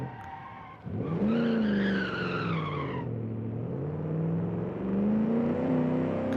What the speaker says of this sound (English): it does good burnouts for distance